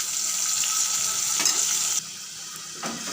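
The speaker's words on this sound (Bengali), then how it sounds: "ভালো করে এবারে মশলা দিয়ে চিকেনটাকে কষিয়ে নিচ্ছি।" Marinated chicken with spices fries in a pan with a loud, steady sizzle while it is stirred, the hiss dropping a little partway through and scraping sounds between.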